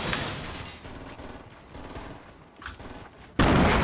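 Rapid bursts of gunfire in the Fortnite Battle Royale video game, a dense sustained fusillade of shots up close with no talking, ending in one sharp louder burst.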